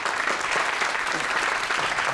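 A studio audience bursts into loud, dense applause to welcome a guest onto the stage of a televised startup showcase, a steady wash of clapping that fills the whole moment without any voices.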